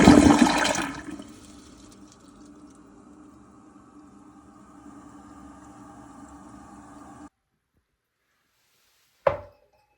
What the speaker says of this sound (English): Siphon jet action.